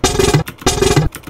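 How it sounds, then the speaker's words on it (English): A rapid, dense drum fill played twice in a row, loud and busy, with punchy low hits and crashing cymbals. "it's really fast drum fill."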